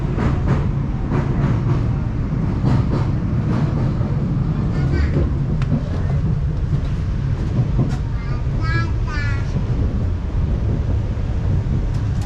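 A Renfe FEVE narrow gauge train running, with a steady low rumble and rattle of the carriage throughout, some wind noise, and a brief squeal or chime partway through.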